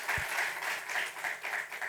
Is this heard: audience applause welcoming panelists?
yes